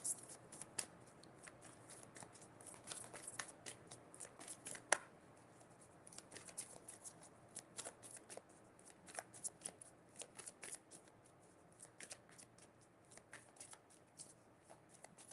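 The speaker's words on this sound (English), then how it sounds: "let's get a oracle card out for you guys." Tarot oracle cards are shuffled and drawn in a quick, steady run of crisp riffles and papery clicks, close and fairly quiet, with hardly any talking.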